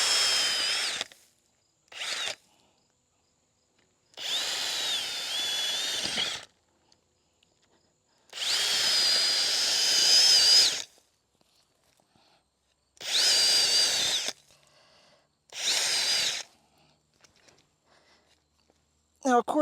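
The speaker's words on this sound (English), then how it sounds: "So I'm just going to go in and start drilling some holes." A power drill bores holes in garden soil for planting tulip bulbs, running in six separate whirring bursts of a few seconds each, with short silences between them.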